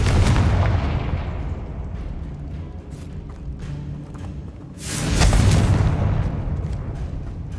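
A Confringo blasting spell goes off in Hogwarts Legacy as two heavy booming explosions, each a loud rumbling burst that decays slowly, the second erupting about five seconds after the first.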